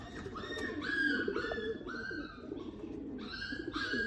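A pure Chapra pigeon coos in a series of soft, repeated calls, close and fairly faint over quiet background noise.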